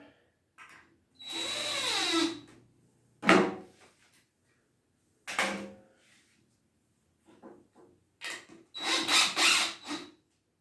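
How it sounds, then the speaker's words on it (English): Power drill driving screws to mount an LED grow light, in several separate whirring bursts of rising and falling pitch with quiet pauses between, close up and with no talking. "Get it lined up. Screw in."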